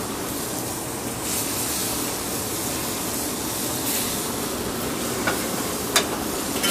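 Red snapper fillet sautéing in a pan just after flipping, a steady broadband sizzle and crackle running throughout with a few sharper pops near the end, no talking.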